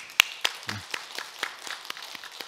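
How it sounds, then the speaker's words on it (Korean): A scattering of claps, sparse and uneven, like a small church congregation applauding lightly after a choir's hymns, with no voices over it. "우리 호산네 찬양들 위해서 격려의 박수 한번 할게요"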